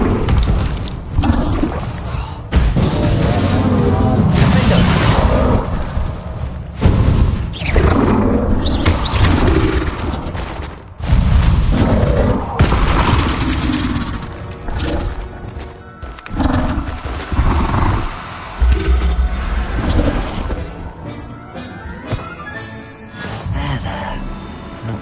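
Confringo fire spells blasting in the Hogwarts Legacy video game, a series of heavy thudding booms layered over a dense, loud wash of game effects and score.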